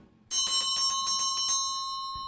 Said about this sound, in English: Ding, ding, ding. There we go, bell lap.